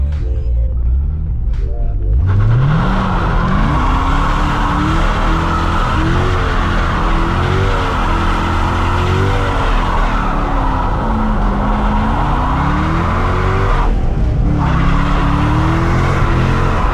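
Chevrolet Corvette C6 Z06 spinning donuts, a loud continuous engine roar with rising and falling revs and tire squeal sustained throughout, close and dominant.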